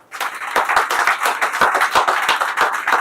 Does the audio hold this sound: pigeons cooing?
no